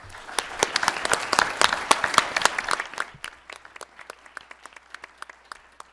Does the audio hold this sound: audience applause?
yes